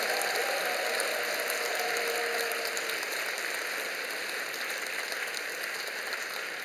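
Congregation at a church teacher appointment ceremony applauding, a dense, steady wash of clapping filling the room from start to finish without a break.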